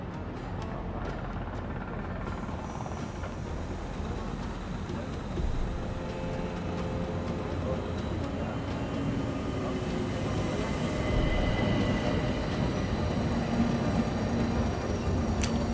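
Aboard the Orient Express, a train's low, continuous rumble and rattle roll on steadily with no talk, the noise swelling slightly toward the end.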